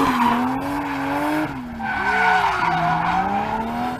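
A Toyota Supra drifting at a drift event, tires squealing in long, wavering shrieks that rise and fall against a revving engine, loud and close, with no voices.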